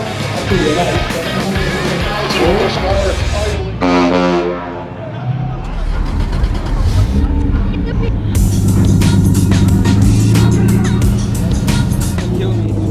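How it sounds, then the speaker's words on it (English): Loud car engines start, rumble and rev nearby at the SEMA show, with vehicles moving past amid a noisy outdoor crowd and voices talking. "People are already starting their cars up."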